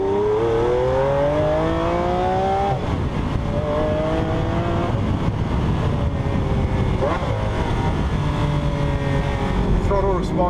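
A 2014 Lamborghini Aventador LP 700-4 on a patchy wet road near Bologna pulls hard through several gears, its engine note climbing in repeated rising sweeps broken by quick shifts, under steady road and wind roar.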